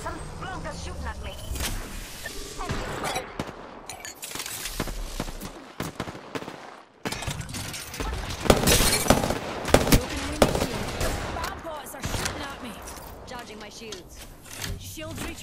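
Gunfire rattles toward the player in a shooter game, irregular sharp shots and short bursts spread across a long stretch, some near and loud, others fainter, with a voice talking over them throughout.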